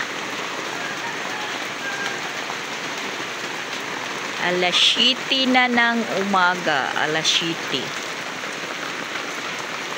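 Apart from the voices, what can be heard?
heavy rain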